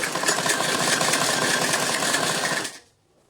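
A sewing machine runs steadily, stitching the seam of an A-line suit, a continuous close whirring hum for about two and a half seconds before stopping abruptly into quiet.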